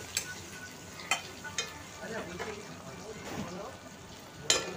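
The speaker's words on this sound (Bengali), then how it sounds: "ওদিকে আলুটা আর ঢ্যাঁড়সটা বেশ ভাজা ভাজা হয়ে এসেছে।" Potatoes and okra frying in a pan, a soft steady sizzle broken by several sharp clinks and scrapes of a spatula stirring, fairly quiet and close.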